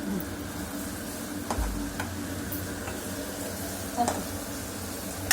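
A utensil stirs and mixes noodles in a hot pan, with a soft continuous sizzle and occasional light scrapes and clicks against the metal, fairly quiet and close.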